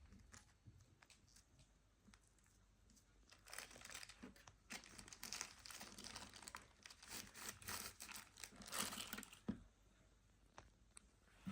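Plastic bag crinkling and rustling while wrapping food for cooking, quiet at first, then a busier stretch of crackly handling in the middle before fading back to near silence.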